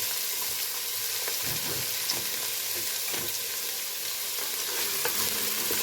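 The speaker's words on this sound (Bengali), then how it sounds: "সবজিগুলো আমি রাইস কুকারেই সব ভেজে নেব।" Mixed vegetables with cardamom, cloves and bay leaf frying inside a rice cooker, giving a dense, even, steady hiss of sizzling throughout with faint stirring.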